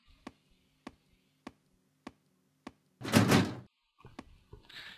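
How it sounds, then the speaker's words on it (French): Doors in a Minecraft horror game: five evenly spaced wooden knocks or thuds, then a loud burst of creaking or rattling noise, followed by a few more softer knocks, heard alone without speech. "Et toutes les portes grincent."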